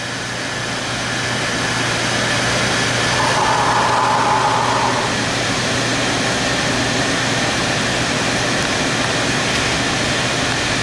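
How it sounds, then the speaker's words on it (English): A gas range oven's fan blows while the oven preheats, a steady broadband whoosh with a low constant hum underneath that runs evenly throughout, with no talking. "the oven will begin to preheat, and you can hear that fan blowing"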